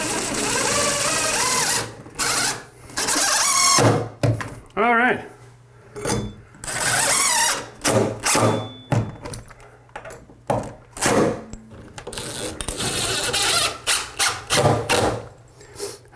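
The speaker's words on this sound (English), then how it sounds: "Now it's just a matter of drilling that in." A power drill drives a screw through a shower tower plate during a plumbing installation, sounding in repeated close bursts of whirring broken by pauses, with someone talking briefly in between.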